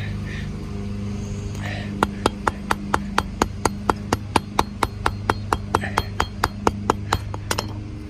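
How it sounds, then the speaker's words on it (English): Hammer tapping on a costume cape during a Return of the Jedi costume build, a steady series of about twenty sharp, evenly spaced taps, close and loud, starting after a short pause. "I want to use the hammer."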